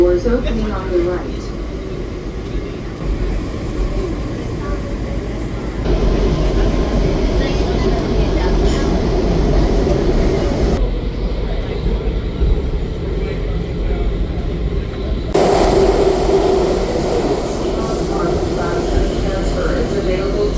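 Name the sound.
DC Metro blue line subway train riding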